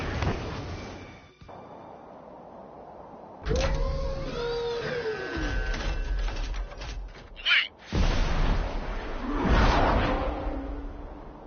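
UAVs launching in the video game Ace Combat 7, heard as rising mechanical whines and rushing whooshes with sweeping tones over a rumbling game soundscape, loud and layered, no talking.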